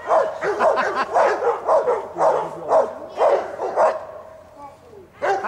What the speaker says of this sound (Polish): Ale brzydki pies, ma duże stopy.